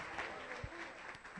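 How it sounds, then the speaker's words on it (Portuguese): Church congregation applauding during a baptism service, steady clapping through the short moment with a voice briefly over it. "Dê glória a Deus e glorifique a Jesus aplaudindo a Ele"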